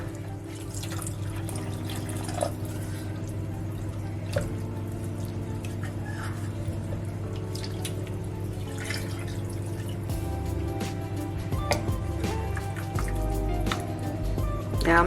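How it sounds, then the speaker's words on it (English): A litre of beef stock poured into a pan of bean-free chilli con carne, with wet splashing, dripping and sloshing over a low steady hum, fairly close and without speech. "And now we will add a litre of beef stock."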